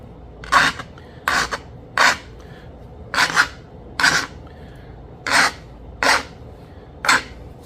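Flint River chert is being knapped into a stone hunting point, a series of about nine sharp, rasping scrapes and strikes with short pauses between them, close and fairly loud.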